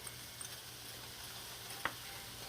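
Onions and carrots land in a hot pot for pasta shell soup with ground beef, giving a soft, steady, fairly quiet sizzle with a single sharp clack partway through.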